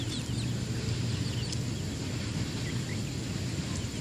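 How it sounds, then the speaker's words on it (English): A chicken eating feed in a farm setting gives a few soft clucks and chirps over steady background noise and a low hum, fairly faint and sparse. "This is the cook's chicken."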